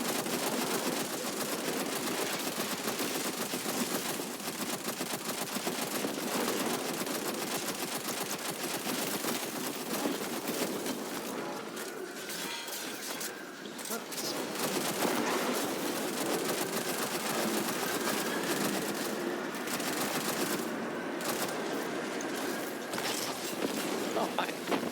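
Sustained automatic gunfire from a sci-fi shooter game, Destiny 2, rattling continuously for the whole stretch with bursts of shots layered over a steady noisy bed.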